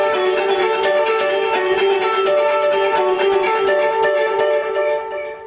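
Electric guitar playing a simple repeated part for a song through an echo effect, ringing, steady sustained notes blurring into one another, loud and alone.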